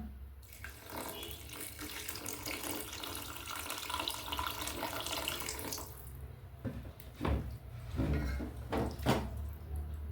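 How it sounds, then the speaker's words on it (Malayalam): Cooled boiled water poured steadily into a chicken curry in a Kerala nadan-style kitchen, a continuous splashing pour for several seconds followed by a few louder splashes and clinks near the end. "നമുക്കിതിലേക്ക് തിളപ്പിച്ചാറിയ വെള്ളം ഒഴിച്ചു കൊടുക്കാം."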